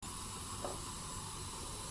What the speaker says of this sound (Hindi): पानी उबल गया है, अब हम इसके अंदर दाल डाल देंगे।